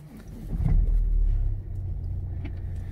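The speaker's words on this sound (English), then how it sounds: "Just start up to show you it's free of any warning lights." A BMW 320d diesel engine fires up close by, a brief cranking surge settling into a steady low idle rumble, heard alone without talk.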